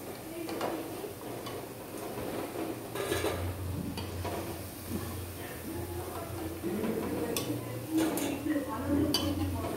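Fried pakoras being lifted out onto a plate in a home kitchen, with soft clinks of utensils against dishes and light tapping scattered through a steady background hum, a voice heard faintly at moments.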